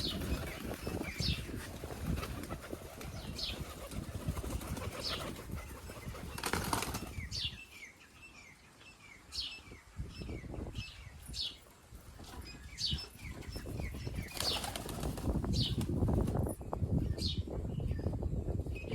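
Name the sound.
pigeons flapping wings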